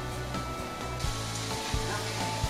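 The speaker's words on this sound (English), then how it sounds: "These onions are going to start to give off some moisture, and as you can see, they're starting to brown on the bottom of the pan." Onions sizzle as they brown in vegetable broth without oil, a steady hissing crackle with a background hum and a few soft clicks or thumps, moderately loud and continuous.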